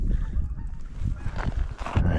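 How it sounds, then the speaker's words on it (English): Geese honking as they fly over a mountain lake, distant repeated calls blending into steady outdoor background noise, with a louder burst near the end. "And there's a bunch of geese flying around over there."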